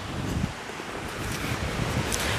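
Wind buffets the microphone on the Spanish coast while sea waves wash in a continuous, rushing roar, with no talking.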